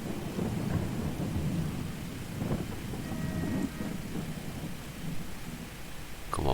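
Thunderstorm weather in the Farming Simulator 22 video game, a continuous heavy rain hiss with low rolling thunder rumbling underneath throughout, loud and dense with no voices.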